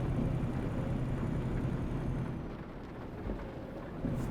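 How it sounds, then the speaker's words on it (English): Rain falls in Euro Truck Simulator 2 with a British setting, a dense steady hiss with low rumbling underneath, continuous and fairly loud, easing slightly midway. "Of course it decides to rain."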